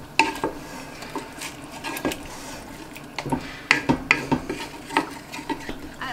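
Wine poured into a cooking pot on the stove, heard as close clinks and clatters of utensils and pan with a faint sizzle under them, irregular and fairly loud, with no voice.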